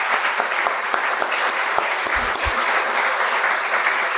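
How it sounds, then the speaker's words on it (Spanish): Audience at a conference on martial arts in Mexico applauds steadily, a dense, even wash of clapping that holds at full strength throughout, with a few sharper claps standing out near the front. "Pido por favor me acompañen en un aplauso al doctor Jorge Negrete Corona"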